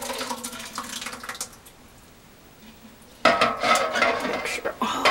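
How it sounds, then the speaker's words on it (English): Washed apples being dumped from two pans into one, with metal pans clattering and scraping loudly in bursts, a quiet pause in the middle, then a louder burst of clanking near the end. "So I'm just going to dump these two pans into one."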